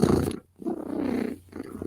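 A pet cat purrs close up in a steady rough rumble, broken by short pauses between breaths, fairly loud and with no talking over it.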